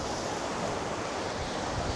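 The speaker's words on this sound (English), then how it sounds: "here's a look at the rafting river rapids that they've got here" Rafting river rapids at Hunderfossen park churn in a constant broadband roar of rushing white water, even and dense with no breaks.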